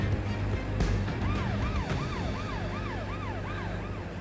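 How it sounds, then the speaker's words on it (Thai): A rescue vehicle's wailing siren rises and falls in a steady repeating sweep, fairly close, over a low rumble of traffic, with no talking. "ได้ยินเสียงรถกู้ภัยไม่หยุดเลยอ่ะ"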